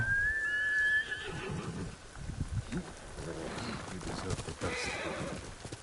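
The horse Kage in Ghost of Tsushima lets out a loud, high neigh at the start, followed by softer snorts and hoof movement against faint outdoor ambience.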